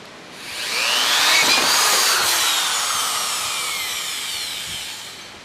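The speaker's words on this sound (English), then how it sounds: "I have a 3/8 of an inch drill, which I'm going to drill a hole" A power drill with a 3/8 inch bit bores a hole, heard as a close, loud whining roar that ramps up quickly, holds steady for several seconds, then eases slightly, with no talking.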